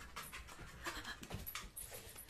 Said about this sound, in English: He's a 6-month German Shepherd.